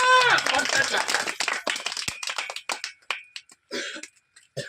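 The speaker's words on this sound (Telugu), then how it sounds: "కొట్టో చప్పట్లు ఒకసారి గట్టిగా, కొట్టో చప్పట్లు" Audience clapping at a Christmas church service, with irregular claps and snaps over loud talk and music at first, thinning into scattered separate claps with gaps.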